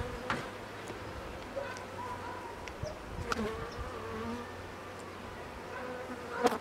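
Honey bees buzz around an open beehive during hive inspection, a faint continuous hum with occasional louder passes of individual bees, while people talk quietly in the background.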